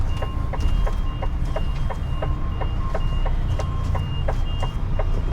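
A forklift's reversing alarm beeps in a steady, evenly spaced pulse over a low rumbling engine. There are about a dozen repeated tones, close and clear.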